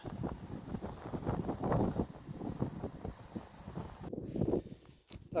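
Gusty wind buffets the microphone outdoors at beehives during a honey harvest, a low rumbling rush that swells and drops, with faint movement sounds underneath.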